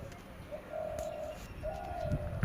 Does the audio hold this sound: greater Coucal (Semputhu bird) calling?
yes